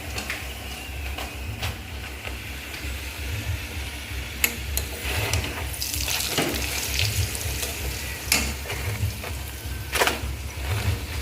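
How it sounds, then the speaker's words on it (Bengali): Paratha frying in a generous amount of hot oil in a home kitchen, a steady loud sizzle with crackling bursts and occasional scraping of a utensil, continuing throughout. "অনেক তেল দিয়ে দিয়েছি, লুচি ভাজার মতো হয়ে যাচ্ছে"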